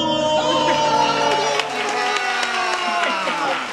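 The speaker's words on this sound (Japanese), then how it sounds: "拍手いただきまして" Audience applause and cheering for a comedy manzai duo at a live horror-themed fan event, a dense sustained wash of clapping from a crowd, with voices and music tones running underneath throughout.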